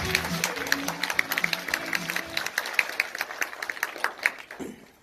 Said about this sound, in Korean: 요럴 때 박수 한번 쳐주시기 바랍니다